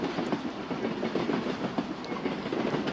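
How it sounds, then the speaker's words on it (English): A train runs on rails with a continuous low rumble and a steady clickety-clack of wheels over joints, heard up close and fairly loud with no voices. "The train drifts forward, and every joint in the rail hums like a baritone tuning fork, deep and rounded."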